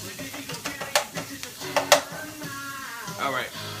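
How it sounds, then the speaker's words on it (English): Food sautés in a pan, a soft sizzle with occasional sharp clinks of a utensil against the cookware, heard under a voice talking nearby. "while that's sauteing"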